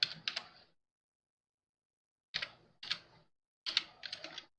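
Keys on a computer keyboard clatter in three short, quiet bursts of typing separated by silent pauses, close by and with no voices.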